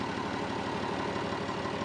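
A DAF 1160 217 hp keel-cooled diesel with dry exhaust aboard a 15 m Dutch barge runs at a steady idle, a continuous even rumble heard alone and at moderate distance.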